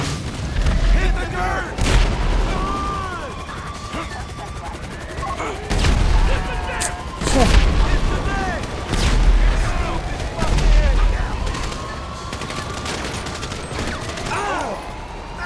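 In a military video game, bursts of gunfire and booming blasts repeat every couple of seconds, loud and close, with whooshing effects between shots.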